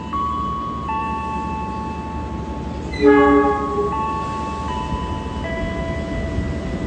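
Rumbling noise with a brief horn blast partway through as the passenger train Argo Wilis passes nearby at Kutoarjo station, heard from aboard another train, with a steady mechanical drone.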